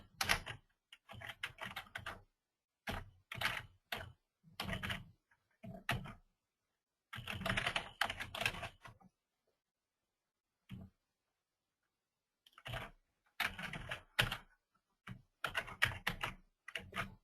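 Details and a password are entered on a computer keyboard in short bursts of rapid, close key clicks separated by silent pauses.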